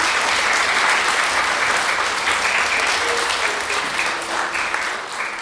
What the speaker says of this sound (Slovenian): En aplavz za ogledanje.